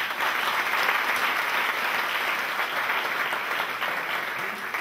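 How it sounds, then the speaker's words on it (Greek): A large audience claps warmly and steadily at a formal ceremony, a dense, even wash of applause held near one level throughout with no voices over it. "σας αξίζει ένα χειροκρότημα θερμό."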